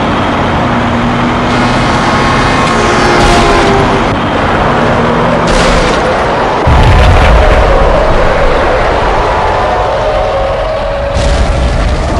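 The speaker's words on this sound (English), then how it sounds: "Another bomb exploded inside the closest slum building" A bomb blasts inside a slum building in Max Payne, giving a deep booming explosion near the middle of a continuous rumbling game soundscape, with lighter impacts and debris scattered around it.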